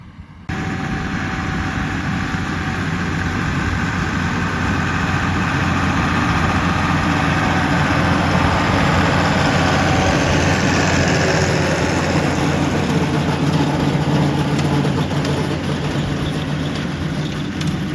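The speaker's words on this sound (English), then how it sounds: "The machine Paul is using is an Alice Chalmers 185" An Allis-Chalmers 185 tractor's heavy diesel engine idles steadily nearby for the whole stretch, a constant low rumble with a faint high whine above it.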